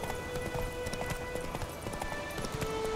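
Rapid, steady clip-clop of galloping horse hooves in The Witcher 3: Wild Hunt, close and continuous, over a busy game soundscape with faint tonal music.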